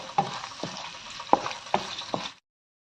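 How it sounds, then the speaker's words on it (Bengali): A bay leaf, a cinnamon stick and a dried chili fry in oil for a vegetable and chana dal dish, a continuous close sizzle punctuated by several sharp stirring scrapes before it stops. "এখন ভালো করে তেলের মধ্যে সবগুলো উপকরণকে আমি ভেজে নিব"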